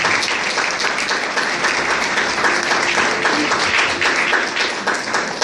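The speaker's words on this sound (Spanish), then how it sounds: "Denle palmas al Espíritu Santo, iglesia." A church congregation at a Spanish-language service bursts into sustained, dense applause, steady and loud throughout with no pauses, as many hands clap together in a large room.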